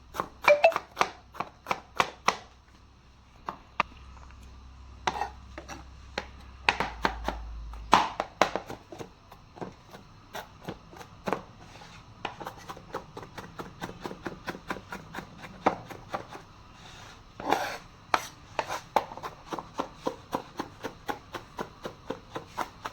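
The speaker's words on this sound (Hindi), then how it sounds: "इसको रफली चॉप कर लें ताकि ये मुंह में ना आए" Fresh garlic being roughly chopped for an Alfredo white sauce: a knife knocks on a cutting board in quick irregular bursts of sharp close taps, with short pauses between runs.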